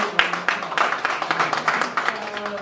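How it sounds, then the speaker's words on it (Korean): Scattered, moderate clapping from a seated audience at a formal guest-speaker event, individual claps distinct and uneven, with faint murmuring underneath. "우리 좋은 말씀해 주신 우리 정경수 회장님께 다시 한번 큰 박수 부탁드립니다."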